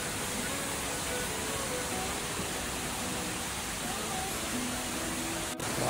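The steady broadband roar of a waterfall in Neidong National Forest at Wulai, a continuous rushing wash heard from nearby with no breaks.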